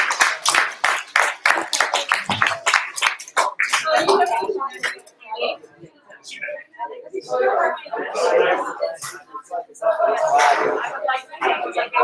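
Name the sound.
audience applause for a presentation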